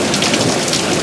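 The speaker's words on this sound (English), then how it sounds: "And a lot of thunder and lightning." Heavy rain pours down during a severe nighttime thunderstorm in Tornado Alley, a loud, dense hiss of drops on surfaces with a deep rumble of thunder rolling beneath it. No voices are heard.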